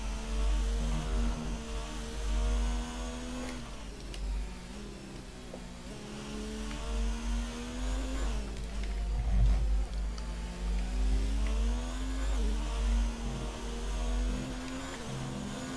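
Formula 1 race car engine in the video game F1 2019, a steady droning hum with rising and falling pitch as the car accelerates and shifts, continuous and moderately loud with no speech.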